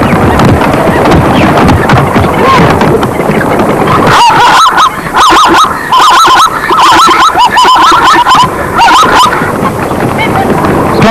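A pair of blacksmith plovers nesting at a waterhole's edge give loud, repeated harsh calls in rapid bursts, with other noise and a voice underneath.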